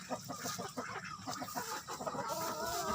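Asil chickens clucking in a coop, with soft, close, overlapping clucks and murmurs that continue throughout.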